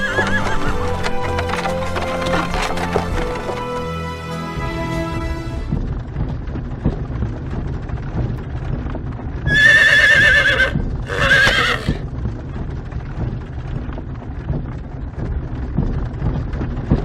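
Horse-drawn wagon setting off in the game Star Ocean: Till the End of Time: music fades, then clopping hooves and rolling wheels continue steadily, with two loud neighs mid-way.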